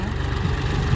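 A tractor used for sowing cumin runs with a low, steady engine drone that holds at a constant level through the moment.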